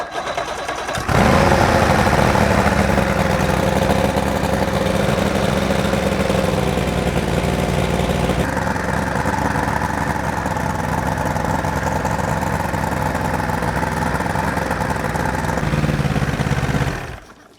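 A Bass Cat boat's outboard engine runs steadily and loudly close by, a continuous mid-pitched drone whose tone shifts partway through before it cuts off at the end.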